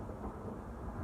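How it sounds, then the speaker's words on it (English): Thunder rolls through a storm as a low, sustained rumble, steady and moderately loud over faint rain, with no voices. "Man, that's some crazy thunder out there."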